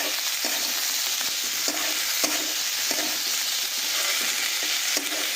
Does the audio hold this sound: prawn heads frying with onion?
yes